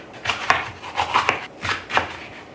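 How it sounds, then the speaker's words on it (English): A knife finely minces garlic on a cutting board, quick uneven bursts of close, crisp chopping taps in short clusters with brief pauses between. "pretty fine mince on the garlic as well"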